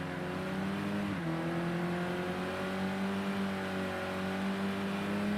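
A racing car engine in a sim racing game revs at high pitch in the wet. It drops briefly at a gear change, then climbs steadily as the car stays flat out down a straight.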